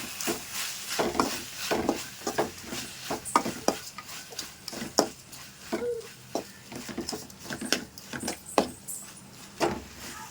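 Onions, tomatoes, masala and salt sautéing in a pan for chicken gravy, with a soft low sizzle under repeated scraping and stirring clicks of a spoon against the pan, close and fairly quiet throughout.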